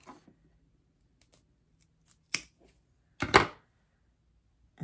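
Scissors snip through a feather boa for a glitter ornament in a few sharp, separate cuts, the loudest two close together near the end, set against near silence.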